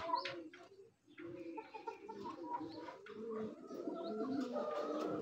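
Racing pigeons coo close by, a soft overlapping burble of several birds that continues throughout.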